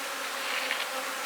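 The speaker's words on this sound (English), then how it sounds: "these bees getting aggravated today" Agitated honey bees at an open hive during queen-cell grafting buzz steadily and densely, a close, unbroken drone.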